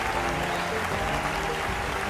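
Audience applause: a dense, even wash of crowd clapping at moderate loudness, with a steady tonal hum or music running underneath.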